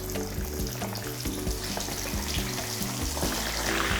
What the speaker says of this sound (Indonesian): Oke, ususnya siap untuk kita goreng.